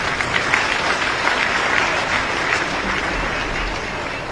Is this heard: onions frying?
no